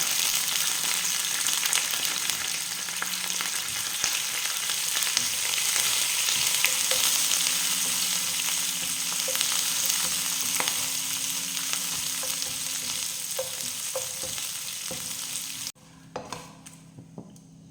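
Mustard seeds sizzle steadily in hot oil with green chilies and curry leaves, with scattered sharp pops and crackles throughout before the frying noise suddenly drops away near the end.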